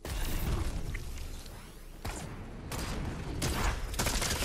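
Gunfire in the video game Fortnite, a series of sharp shot bursts spaced a second or so apart, fairly loud and close, with no talk.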